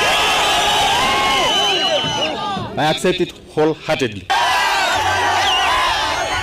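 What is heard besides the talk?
crowd cheering for Moitalel ole Kenta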